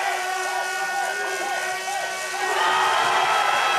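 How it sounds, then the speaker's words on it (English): A spectator crowd at the Winterberg bobsleigh World Cup in Germany roars in a steady, distant wash of cheering and whooping under an announcer's voice, swelling a little louder toward the end. "Listen to the crowd."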